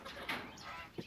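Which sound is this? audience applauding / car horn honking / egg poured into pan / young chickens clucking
young chickens clucking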